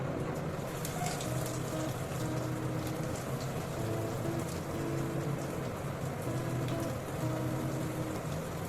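KFC-style coated chicken sizzles and crackles steadily in hot oil over a medium gas flame, a dense, continuous frying hiss with scattered pops, close and even throughout, no talking.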